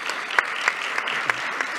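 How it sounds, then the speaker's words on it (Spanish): Audience applause in a conference room at the end of a session, a short burst of dense, steady clapping with a few sharper claps standing out. "Un aplauso para su propuesta."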